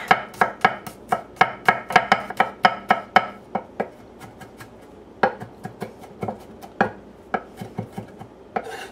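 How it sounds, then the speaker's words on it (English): Garlic is chopped with a knife on a board in sharp, rapid knocks, first in a steady fast run, then a short pause before slower, scattered chops, close and clear with no talk. "And repeat with the garlic."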